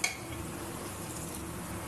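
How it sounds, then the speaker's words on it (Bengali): Ghugni being stirred in a pan as water is added a little at a time, giving a faint, continuous wet sizzle with soft scraping and no one talking. "অল্প অল্প জল দেবো আর কষিয়ে নেবো।"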